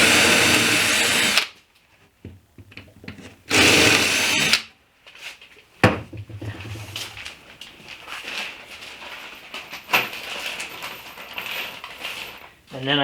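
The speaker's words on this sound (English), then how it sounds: "drill these holes again right through the whole box" Loud bursts of a power drill boring through a wooden box whir twice in quick succession, then quieter scraping, clicks and faint background talk follow.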